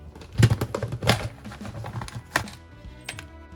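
A handful of small metal screws snap onto a magnetic wristband in a workshop, making a quick series of close, sharp clicks and light metallic rattles with short pauses between them.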